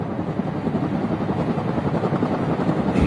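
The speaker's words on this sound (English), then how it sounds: "The chopper's very close this time." A helicopter flies very close overhead at night, its dense, steady rotor thrum and engine roar loud and continuous throughout, with no voices.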